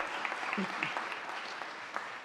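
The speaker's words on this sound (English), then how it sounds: "you can give her a round of applause" A short burst of applause from a crowd at a State of the City address, steady clapping at moderate volume heard from a distance.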